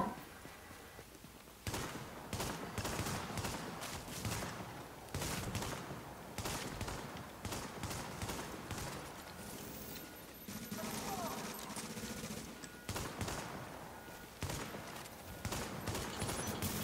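Gunfire in The Division during a PvP fight, with dense bursts of rapid shots and clatter running almost continuously at close range.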